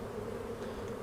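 Honey bees in a large hive after a swarm produce a steady, dense buzz that holds evenly close by with no talk over it.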